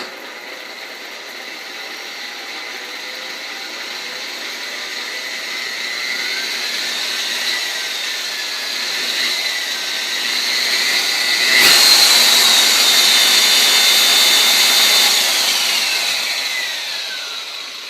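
A rotary car polisher, a DeWalt DWP849X or Simoniz 7-inch set to 1800, spins up to a loud, steady high whine whose pitch shifts slightly and swells toward the middle before easing off.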